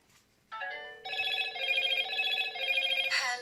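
A Motorola Razr 2024 flip phone rings with an incoming call while closed. A bright, close, melodic electronic ringtone starts after a short pause and plays continuously, with its tones stepping and layering, and no one talks over it.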